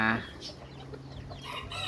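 Chickens clucking nearby, with a couple of higher calls and soft background noise; no talking.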